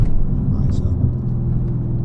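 Widebody Dodge Hellcat engine dropping a gear, a loud low rumble with a steady engine drone and a brief rising whine partway through, heard from inside the car.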